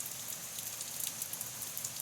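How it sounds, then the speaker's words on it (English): Steady rain falls and patters on the ground, a continuous even hiss with scattered drop taps and no voices, coming down harder and colder onto dry dirt and green plants. "this rain is only getting stronger, it's only getting colder, it's only getting wetter"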